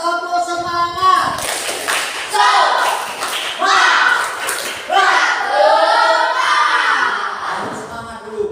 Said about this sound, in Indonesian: Coba sekarang tepuk semangat.